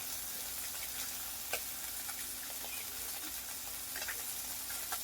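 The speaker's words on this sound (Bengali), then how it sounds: "একটু হালকা করে মাছগুলোকে ভেজে নেব" Small chuno fish fry lightly in a pan with a soft, steady hiss and scattered tiny crackles and pops, quiet and close, with no voices.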